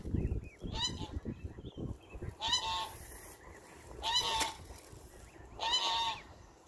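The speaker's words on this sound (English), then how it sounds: "Baby ducks." Waterfowl at the Maymont Park pond in Richmond, Virginia, give several loud honking calls in separated bursts, with a low rumble of background noise early on.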